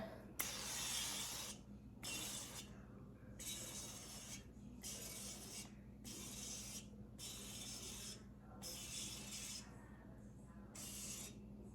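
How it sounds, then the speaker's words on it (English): Avocado oil sprays from a can onto a cooking pan on the stove in about six short hissing bursts with brief gaps between them. The hiss is close and fairly quiet, with a low background hum and no talking. "I'm just going to use a little bit of this avocado oil and spray this pan really good"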